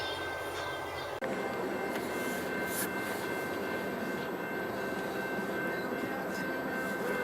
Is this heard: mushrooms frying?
no